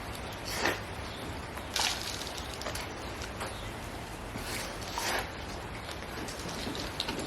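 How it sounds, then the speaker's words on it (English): Rain running down outside during indoor plant repotting, a continuous soft hiss of water with a few brief louder drips and splashes, no talking. "It's just the rain. Sliding down, down, down."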